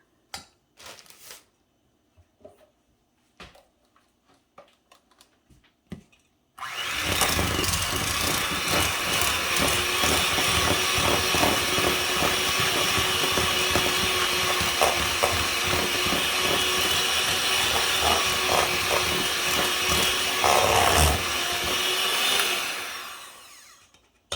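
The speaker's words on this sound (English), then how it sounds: "I'm going to get my hand mixer and I'm going to blend this together now so that it's creamy and smooth" A hand mixer blends cream cheese for a buffalo chicken dip. A few quiet clicks come first, then a steady, close motor whir runs for about sixteen seconds before it winds down.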